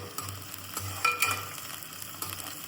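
Onion and ground masala sauté in a pan, a close frying sizzle broken by several scraping stirs of a spoon, with no talking.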